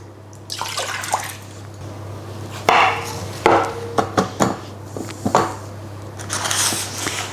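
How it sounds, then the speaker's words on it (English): Milk is poured into a cooking pot in a kitchen, a steady liquid pour with a few sharp knocks and clinks of the pot and utensils, close by under a low steady hum, with no talking. "Then into a pot, pour 500 ml, 2 cups of milk,"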